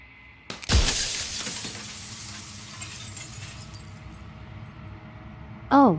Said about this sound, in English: turning the mirror into jagged shards of broken glass.